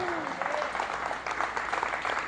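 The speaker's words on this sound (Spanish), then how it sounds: "Yo le daría un aplauso al Señor." A church congregation breaks into applause for the Lord during a sermon, a moderate wash of clapping heard from some distance with a voice still audible over it.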